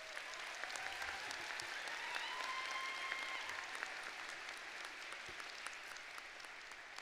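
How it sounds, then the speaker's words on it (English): Audience at a law school commencement ceremony applauds the faculty seated on the podium, a steady, distant wash of many hands clapping that holds evenly for several seconds. "I'm going to applaud just for that one."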